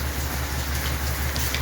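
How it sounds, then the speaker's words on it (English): Heavy rain pours down in a dense, steady hiss, close and loud, with no pauses and no talk. "it's raining cats and dogs, guys"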